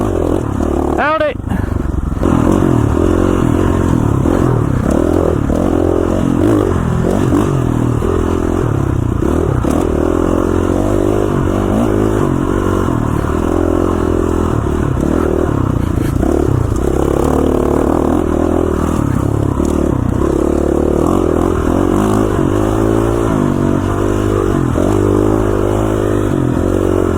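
Dirt bike engine running steadily while riding out of Blacks Creek in the Danskin Mountains with a rear problem, a continuous mid-pitched drone with rising and falling revs, heard under a rider talking throughout.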